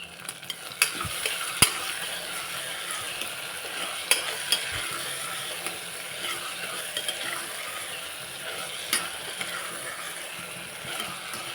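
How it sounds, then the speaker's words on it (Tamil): Green chillies sauté with onion and tomato in a pan for baby jackfruit biryani: a steady soft sizzle broken by occasional sharp clicks and scrapes of a stirring spoon, close up, with no talking. "இப்போ பச்சை மிளகாயும் வதங்கியாச்சு"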